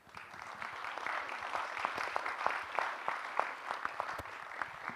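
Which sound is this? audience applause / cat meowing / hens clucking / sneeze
audience applause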